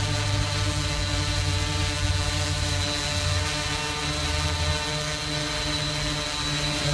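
A Blade Chroma drone hovers steadily in calm air, its propellers giving a loud, continuous buzzing drone with a constant motor whine and no pauses.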